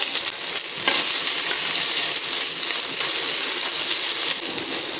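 Onions frying with spices on a low gas flame for paneer masala, a loud, steady sizzle with faint stirring scrapes, close and continuous without talk.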